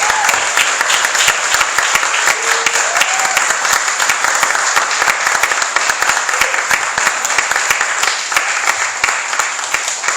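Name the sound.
audience applause for three candidates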